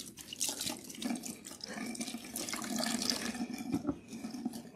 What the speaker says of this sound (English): Make sure that the water that's coming out is not cloudy yellow.